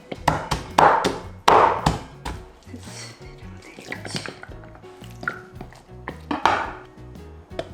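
A knife cuts shrimp on a cutting board, producing sharp close knocks and taps in uneven bursts, some loud and some softer, amid light kitchen clatter.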